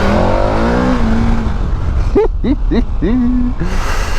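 A loud, close KTM Super Adventure motorcycle engine revs up through several rising gear pulls, each climbing in pitch before dropping, with a steady roar underneath.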